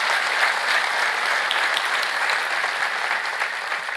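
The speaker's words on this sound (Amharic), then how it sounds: "እስኪ እንደው አጨብጭቡና ክብር ስጡ በእውነት" A church audience at a Protestant gathering claps together, dense, sustained applause filling the space at a steady level throughout.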